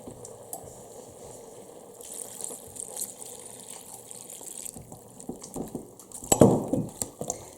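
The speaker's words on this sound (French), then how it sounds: "Je vais mettre mes haricots dedans. et je vais mettre de l'eau." Water pours from a tap into a pot of red beans, a steady close gush and splash that swells louder near the end, with no voices.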